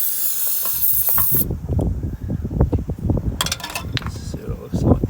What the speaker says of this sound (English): We'll just give it a quick spray.